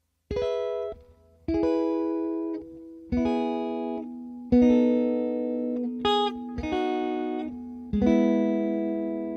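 A sequence of distorted electric guitar triad chords from the opening of Silent Night, each struck and left to ring, played slowly one after another.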